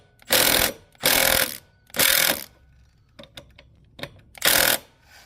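An air impact wrench tightens the variator bolt on a Honda Ruckus scooter. It fires in four loud, close bursts of rattling hammering about a second each, separated by quiet gaps with a few light clicks and taps.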